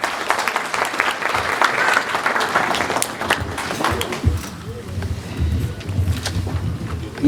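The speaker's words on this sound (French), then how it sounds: "On l'applaudit très fort, s'il vous plaît." Guests at a sixtieth birthday celebration in Montreal applaud, a dense scattered clapping that fades toward the end with some low murmuring and handling noise.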